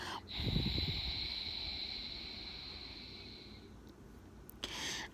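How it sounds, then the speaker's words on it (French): A long, steady hissing breath drawn through a constricted throat during ujjayi pranayama breathing, a soft oceanic rasp lasting a few seconds, with quiet room noise around it. "tu inspires par le nez et tu fais le bruit ici dans ta gorge"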